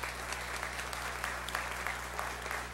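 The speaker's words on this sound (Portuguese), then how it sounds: "Palmas, palmas" Steady applause from an audience at a legislative assembly session, with dense overlapping claps sustained evenly at a moderate distance throughout.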